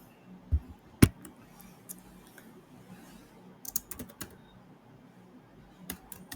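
Typing an SQL query on a computer keyboard, with scattered sharp key clicks in short irregular bursts, close and fairly quiet, and no voice.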